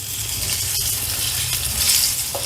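Stuffed bitter gourd fries in a pan and is turned over, giving a steady, close sizzle with a faint clink partway through.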